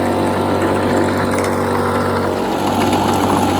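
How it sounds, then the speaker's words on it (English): A drywasher motor for gold prospecting runs loud and close with a steady, droning rumble that holds throughout, no talking over it. "We got this motor going. It's kind of noisy."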